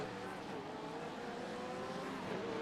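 Sim racing GT4 and GT3 race cars roar down the main straight in a continuous, fairly quiet engine drone with a rising whine near the end, under commentary.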